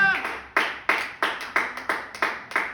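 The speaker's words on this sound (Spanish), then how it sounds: "Denle un fuerte aplauso a la gloria del Señor" A church congregation claps in unison, a steady rhythmic beat of sharp hand claps roughly three per second, close and moderately loud.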